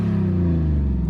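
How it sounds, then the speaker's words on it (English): A classic Mercedes 400D diesel engine revving through its exhaust, a loud, close, low rumbling drone that swells briefly and then eases slightly, with no voices. "I give it a little exhaust rev right here."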